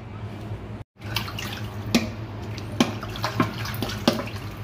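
Fish heads being washed by hand in water, steady running-water wash with repeated splashes and sloshes at intervals, close by, after a short pause near the start.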